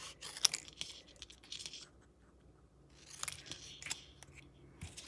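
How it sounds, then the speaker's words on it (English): Paper snips cutting apart printed words on paper for a Halloween candy box bag, giving a few close, crisp snipping bursts separated by pauses, with no talking. "I'm going to get my paper snips and just very easily cut the words apart"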